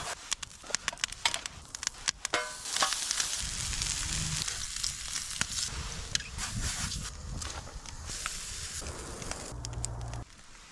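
Spam and blueberry pancakes frying in a pan over an outdoor campfire, a steady soft sizzle with scattered pops and crackles, fairly quiet and close, with a few light clinks of utensils.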